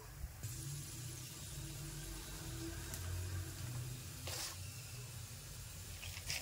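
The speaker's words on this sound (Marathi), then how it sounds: "तिला मंद आचेवर भाजून घ्यायचं" Sesame-jaggery poli (til gul poli) brushed with ghee roasting on a pan over a low flame, a faint steady sizzling hiss with a couple of brief louder crackles.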